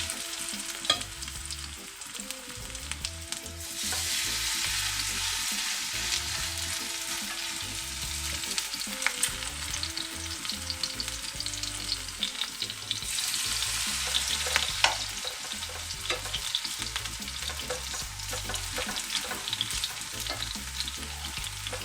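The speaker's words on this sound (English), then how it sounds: "And now I'm gonna fry my vegetable fritters. And I have my pot with my oil preheated." Vegetable fritters fry in a pot of preheated oil for Jamaican-style fritters, a continuous close bubbling sizzle with intermittent stirring and scraping, no voices, lasting throughout.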